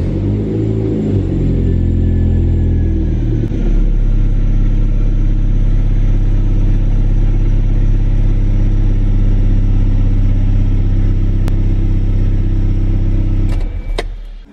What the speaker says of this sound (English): the car at least idles and stuff